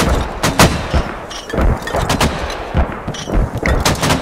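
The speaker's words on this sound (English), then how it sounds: "Mortars hitting also over here and over here." Mortar rounds pound the ground in the video game Squad, a rapid series of sharp, loud explosive impacts about every half second to second, with sustained rumble between blasts and no talk.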